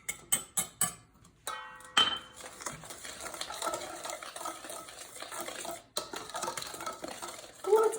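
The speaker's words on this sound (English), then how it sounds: "I'm gonna add my cornstarch to this." A metal spoon or whisk clinks and scrapes against a pot as cornstarch goes into pastry cream: a few sharp taps first, then steady close stirring and scraping that continues to the end.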